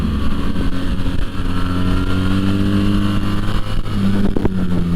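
A BMW R1300 GS motorcycle engine runs loud and close, revving with a steady throaty drone that rises and falls in pitch, ending with a sharper blip of the throttle.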